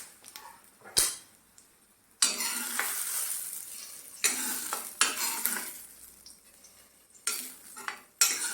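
Hot oil with fried onion and curry leaves is poured into an ash gourd and lentil curry, sending up bursts of loud sizzling hiss separated by metallic clinks and quieter gaps, close by with no talking.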